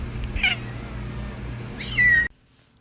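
A cat meows twice, a short cry near the start and a longer, louder meow near the end, over a low steady background hum, before the sound cuts off abruptly.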